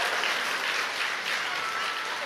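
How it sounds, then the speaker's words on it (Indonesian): Audience applause, a dense sustained clapping from a crowd, loud and even throughout the short stretch with no voices over it. "kasih tepuk tangan aja buat Tuhan yuk"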